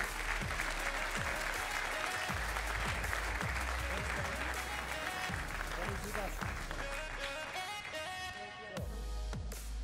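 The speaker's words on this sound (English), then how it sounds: "Let's give him a round of applause." Loud, steady applause fills a stage award presentation at a MotoGP race event, dense clapping sustained throughout with music or voices faintly mixed underneath.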